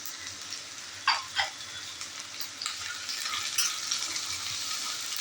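Bell peppers (capsicum) tossed into a hot pan for paneer chilli, with a couple of sharp clattering hits as they go in, followed by a steady, bright sizzle of frying.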